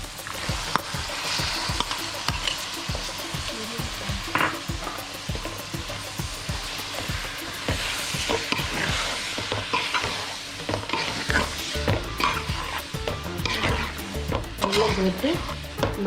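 Green chillies and chopped tomato sizzle and fry in a pan for chicken capsicum while a spoon stirs them in steady repeated scrapes, loud and close, with the frying crackle continuing throughout.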